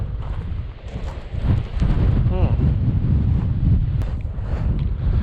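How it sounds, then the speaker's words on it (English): Strong Mojave Desert wind buffeting the microphone with a heavy low roar, gusting continuously. "This sort of wind that blows up your nose"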